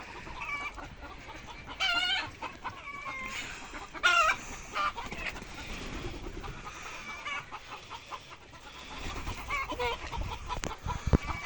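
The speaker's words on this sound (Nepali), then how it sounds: "उता भालेहरू रहेका छन्।" Roosters crow in bursts amid a busy flock clucking nearby, with a few louder calls standing out against the background.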